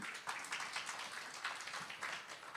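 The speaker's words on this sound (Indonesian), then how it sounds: "Saudara boleh berikan tepuk tangan orang-orang yang melayani di mimbar ini" Church congregation applauding the people who serve at the pulpit during a Sunday service, a steady patter of many hands clapping at moderate distance for a couple of seconds.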